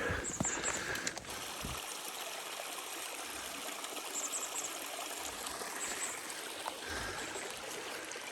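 A creek flows through a canyon with a steady, close babbling and trickling rush that stays even throughout, with a few faint thumps and rustles at the start and no talking.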